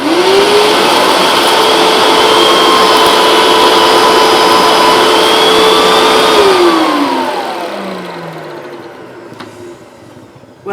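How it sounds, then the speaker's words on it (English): A Bissell Hydroclean vacuum dry-vacuuming with its brushes rotating runs loud and steady with a rising motor whine, then winds down over the last few seconds. "I'll just switch it on with the machine like this. You can see the brushes rotate."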